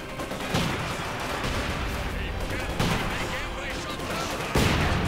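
Gunfire and mortar blasts rattle through a Company of Heroes 2 battle, with scattered shots and sharp impacts recurring over a constant dense din of combat noise at moderate level.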